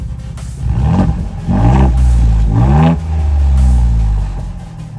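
A first-generation Ford Bronco engine revs up hard several times in a row, a deep throaty roar rising and falling between bursts, loud and close.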